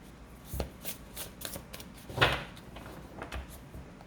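Tarot cards being shuffled and drawn, heard as a close run of soft papery riffles, slaps and flicks in an irregular rhythm, with a louder brushing burst midway and no talk.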